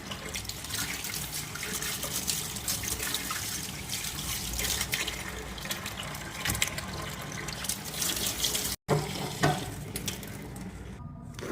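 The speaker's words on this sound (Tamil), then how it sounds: "மீன் கழுவிடலாம்." Milk fish being washed under a running tap, a steady close rush of water splashing into a sink with shifting gurgles and splatter as the fish is handled, continuous throughout with a brief cut near the end.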